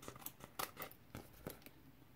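Scissors snip around sticky scrap paper for a card, a series of quiet, close, irregular cutting clicks with no talk.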